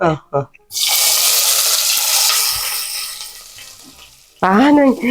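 A bowl of onions dropped into hot oil for chicken sambar bursts into a loud sizzling roar that slowly settles, with a person talking briefly before and after.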